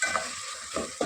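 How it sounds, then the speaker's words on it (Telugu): Chopped tomato and green chillies fry in a hot tempering for bagara rice, giving a soft steady sizzle with a few louder stirring scrapes near the start and toward the end. "ఈ టమాటా పచ్చిమిర్చి కూడా తాలింపులో బాగా మగ్గాలి"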